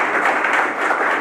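Audience clapping during a lecture, a dense continuous burst of applause from a crowd, loud and even throughout with no talk over it.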